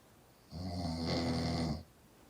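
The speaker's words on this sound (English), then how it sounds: "And she claims she doesn't snore" Woman snoring while asleep, a single rough, buzzing inhaled snore lasting just over a second, close and fairly loud against a quiet room.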